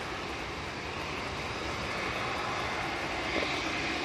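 Airliner landing on the runway at Manchester Airport during Storm Floris, a steady broadband roar of engines and rushing wind holding level throughout, distant and continuous, with no voices.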